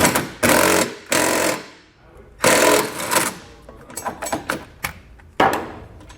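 Ratcheting 13mm socket snugging a bolt to seat a rivnut for a Westin R5 nerf bar bracket, several short bursts of clicking with pauses between, close and fairly loud.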